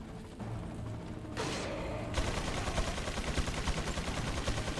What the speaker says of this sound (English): I'm just gonna start shooting people down here.